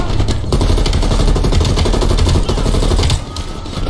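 Sustained rapid gunfire in Call of Duty: Black Ops Cold War, a dense stream of close, loud automatic shots that runs for about three seconds before easing off.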